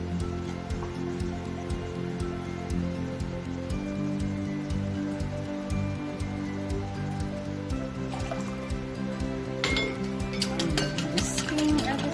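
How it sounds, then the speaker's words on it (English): A whisk working through chocolate cake batter made with vegetable oil and vanilla in a bowl: quick, light, wet ticking and clinking that runs steadily, then turns sharper and more rapid near the end. "Whisking everything together."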